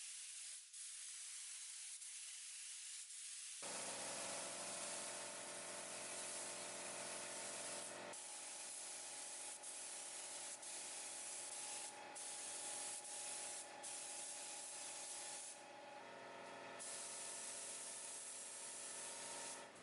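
A steady, loud hiss of a spray gun applying clear coat to a 2016 Dodge Ram 1500 EcoDiesel, starting after a few seconds and continuing in long bursts with brief changes in tone.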